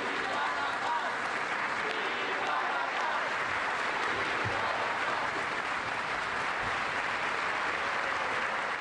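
An audience at the Teatro Colón in central Bogotá gives a sustained ovation, a dense, even wash of clapping that carries on for the whole stretch at moderate distance.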